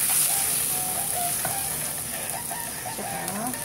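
Ginger frying in hot oil for a fish and sautéed eggplant dish, a steady bright sizzle crackling throughout, with faint clinks and scraping from stirring utensils.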